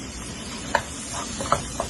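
Tomatoes frying with sautéed onions in a pan for a ghee roast chicken gravy, a steady low sizzle with a few brief clinks of a spoon stirring against the pan.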